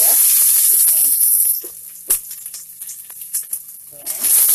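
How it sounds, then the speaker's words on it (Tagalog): Garlic and onion fry in hot oil with a bright, close sizzle that is strong at first, thins to scattered crackles and pops through the middle, then swells again at the end, with a voice talking over it. "Ayan na golden brown ang ating sibuyas at bawang."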